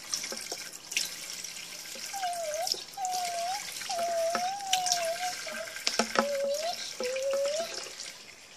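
Tap water runs steadily into a basin while a baby doll is bathed, a continuous hiss broken by soft splashes and a few squeaky, rising whistle-like chirps.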